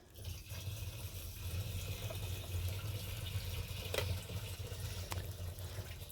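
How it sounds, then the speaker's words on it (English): Fuel pours from a removed BMW E90 fuel pump back into the tank, a continuous soft trickle and splash of liquid, fairly faint and close, with a couple of small knocks. "You can see it's still filled with fuel, so I'm just gonna try to pour that back in."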